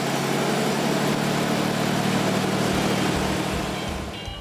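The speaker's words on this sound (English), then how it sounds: "always fire her up just to make sure she sounds as good as she looks" A classic car engine runs steadily at a close, loud idle, a continuous low rumble with a faint tapering toward the end; no talking.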